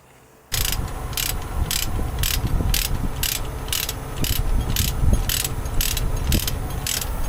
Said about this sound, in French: là il est en train de défaire la sangle pour le machin là